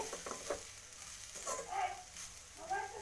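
Grated coconut dry-roasting in a pan over a low flame for a Kannada kadale sambar, giving a soft steady sizzle with a few scraping stirs, fairly quiet and close, with no talking.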